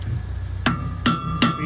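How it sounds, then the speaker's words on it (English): Hammer striking a flathead screwdriver to pry wedged wood debris from a wood chipper, three sharp metallic taps in quick succession, close and fairly loud over a low background hum. "I just use a flathead screwdriver and a hammer."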